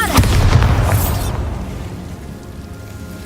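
Bombarda spell explosion in the game Hogwarts Legacy: a loud booming blast with crackling debris at the start, decaying into a fading rumble over a few seconds.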